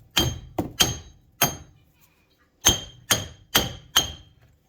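A sledgehammer strikes a wheel bearing on a 2008 Chrysler Town and Country, eight sharp metallic blows that ring briefly, first in a quick uneven group, then after a pause in a steady run of four.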